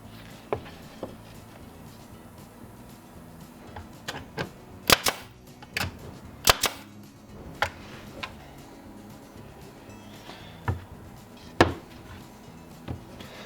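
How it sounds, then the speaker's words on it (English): Pneumatic staple gun driving 1 1/4 inch 18 gauge staples into wood while assembling a replacement furniture drawer, a scattered series of sharp, close snaps with short pauses between them over a quiet room background. "I am gonna staple it together with the pneumatic staple gun"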